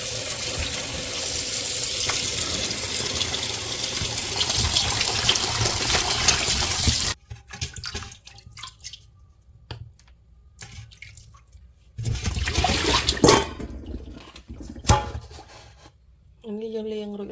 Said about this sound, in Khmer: ចាំបន្តមកទៀតយើងធ្វើការលាងសាច់